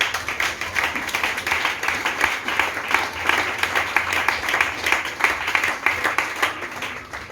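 A church congregation claps in dense, steady applause that holds at an even level from start to finish, with no voices standing out above it.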